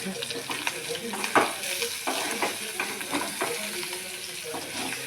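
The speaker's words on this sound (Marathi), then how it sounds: "पनीर आपलं फ्राय करून घेत आहे मी" Paneer pieces frying in a pan, a close steady sizzle broken by scraping stirs and light clinks at uneven intervals, moderately quiet with no speech.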